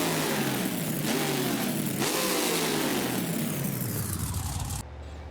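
Monster truck engine revving hard in BeamNG Drive, a custom black and red truck at a Houston, Texas event, loud and continuous with rising and falling pitch before dropping off abruptly near the end.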